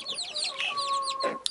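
Chickens and young chicks clucking and chirping as they are fed watermelon, a busy flurry of close, high peeps and clucks layered over one another, with no talking.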